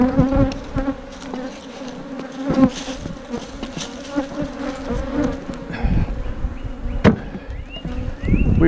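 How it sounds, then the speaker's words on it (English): Bees from a hive stand buzz densely and continuously up close, a busy humming swarm with occasional sharp knocks and clatter mixed in as they are knocked off while mating nucs are loaded. "let's knock these bees out of here."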